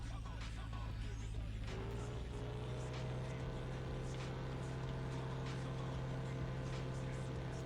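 Deora 2 car engine in a racing video game while cornering, a steady low drone with a smooth whine rising slightly, constant and moderately loud throughout with no talking.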